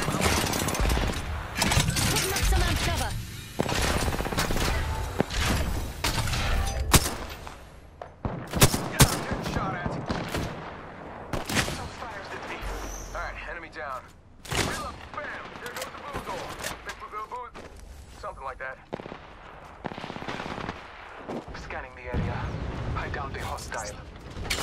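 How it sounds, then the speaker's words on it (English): Rapid bursts of gunfire from enemies in an online shooter game, dense and loud, crackling almost continuously with heavy explosive thumps, while a player talks over the shooting. "Some flunkers shooting at me."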